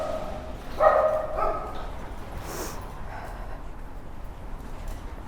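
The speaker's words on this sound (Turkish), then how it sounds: "Köpekler burada şey yapıyorlar." A few dog barks come in a short cluster near the start outside a hostel in Rome, then give way to quiet outdoor ambience.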